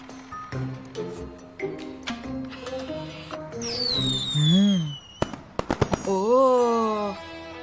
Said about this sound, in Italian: Guarda, Carl, è il segnale dei fuochi d'artificio.